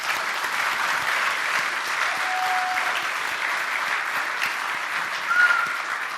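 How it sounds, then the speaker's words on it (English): An audience at a gutter industry summit keynote gives sustained, even applause that holds steady throughout the clip. "Let's give her a round of applause"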